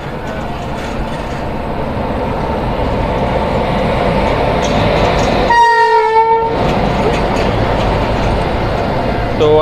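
Purva Express train arriving at Asansol station and sounding a loud, sustained horn blast of a couple of seconds midway, over steady rolling rail rumble and platform ambience.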